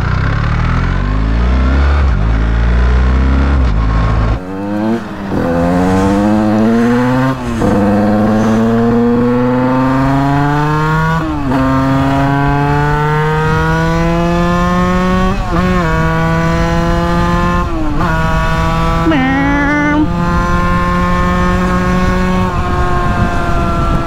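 A 50cc moped engine revs and buzzes steadily while riding, pitch climbing through repeated rises with brief drops between them, loud and close for the whole stretch with no talking.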